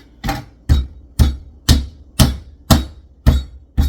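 A scraper cutter chops straight down through chicken potpie dough on a board, eight sharp, evenly spaced knocks at close range with no talking.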